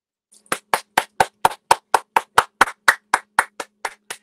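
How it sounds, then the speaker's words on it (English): A stand-up comedian claps hands alone at home for an online comedy special, about sixteen sharp, evenly spaced claps at a steady rhythm, close and clear with no voices. "I'm clapping myself, sod it, I don't care."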